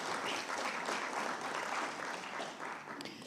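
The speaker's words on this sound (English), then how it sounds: "Can we give them a round of applause" Parliamentary chamber applause welcoming guests during a plenary sitting, a continuous wash of many hands clapping at a steady level throughout.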